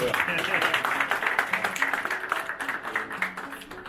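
A crowd claps at the opening of the Yılmaz Güney Public Library in Kızıltepe, Mardin, a steady rhythmic patter of hands under ongoing talk that continues throughout.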